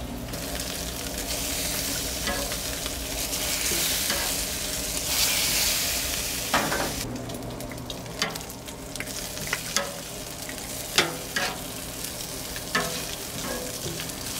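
Bacon frying on a Blackstone griddle gives a steady, close sizzling hiss, louder through the first half, then softer, with sharp spatula scrapes and clicks breaking in over the crackle.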